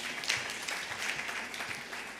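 An audience claps steadily at a launch event in Uganda, a dense patter of many hands at even volume, moderately close, with no talk over it.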